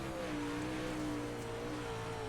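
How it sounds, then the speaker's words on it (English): A race car engine runs at throttle during a dirt track race at Volusia, a steady droning roar with a slowly shifting pitch, fairly distant and continuous, with no voices over it. "I can hear your throttle."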